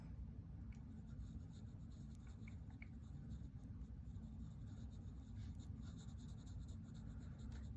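Fine pencil shading on paper, a soft steady scratching of graphite in small repeated strokes, close and faint under a low background hum.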